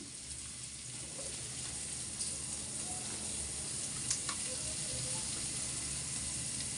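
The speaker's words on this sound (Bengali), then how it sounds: "কাঁচামরিচ রসুন কুচি ভাইজা নিলাম" Green chili and chopped garlic fry in butter, giving a soft, steady sizzle with occasional faint ticks and stirring sounds, fairly quiet and without talk.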